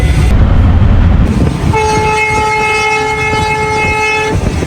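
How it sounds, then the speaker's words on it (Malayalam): A moving train rumbles loudly, then its horn blares in a long sustained blast partway through before cutting off near the end. "അങ്ങനെ ഞാനിപ്പോൾ ട്രെയിനിലാണ് ഉള്ളത്"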